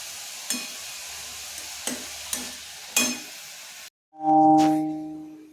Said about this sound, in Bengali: এটা শুকানো শুকানো করে ভেজে নেব আমি